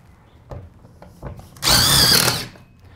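Drill driving self-tapping screws into trailer e-track in an enclosed trailer: a few light taps and clicks, then one close, loud whirring burst of just under a second as a screw is run in.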